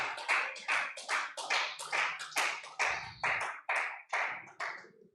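A church congregation claps in a steady rhythm, about a dozen sharp, evenly spaced bursts of hands striking together, close and fairly loud with brief pauses between.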